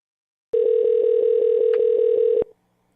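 A telephone line tone sounds loud and steady on a call placed back to scammers. It holds for about two seconds with an even, pulsing texture, then stops suddenly into silence.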